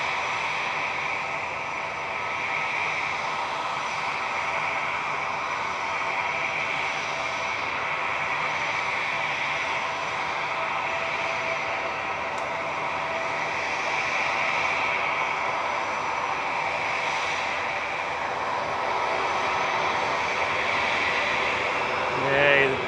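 An EasyJet airliner's jet engines at Manchester Airport give a steady, sustained roar with a broad rushing tone that carries throughout, while a voice talks over it.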